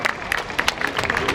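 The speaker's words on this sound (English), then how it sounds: "please give a round of applause for Mr." Brief applause from an audience at a community event in Toronto greeting a provincial minister, made up of scattered, uneven claps over about a second and a half, with some crowd noise in between.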